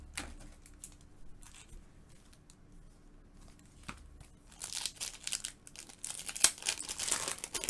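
Foil wrappers of 2016 Panini Classics football card packs crinkle and tear open, quiet scattered rustles early building to denser, louder crackling bursts near the end, with no talk.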